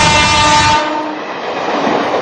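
A passenger train runs with a loud steady rumble heard from inside a third AC coach, opening under a long blaring horn that cuts off, then continuous rolling noise.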